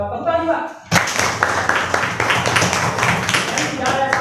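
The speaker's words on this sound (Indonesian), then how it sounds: "Tepuk tangan juga." Applause from a crowd of listeners at a talk on bullying, a dense burst of many hands clapping that starts abruptly and carries on steadily at close range.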